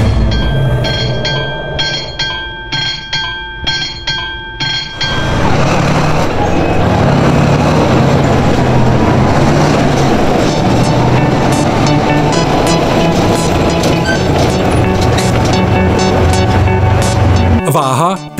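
A heavy diesel railway recovery vehicle of about 47 tonnes and 573 kW works on track. A loud, pulsing engine rumble is followed by a sustained roaring run with rail noise, close and continuous.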